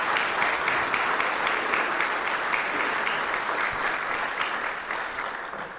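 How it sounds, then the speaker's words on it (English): A large audience at a city's State of the City address gives a sustained round of applause for city employees, dense steady clapping that holds evenly and then begins to taper near the end. "Let's give our employees a round of applause for that."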